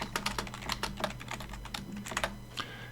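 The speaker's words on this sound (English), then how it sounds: "I'm going to type in hello world." Typing on a computer keyboard, a quick run of crisp, close keystrokes in an irregular burst lasting a few seconds, with no talking.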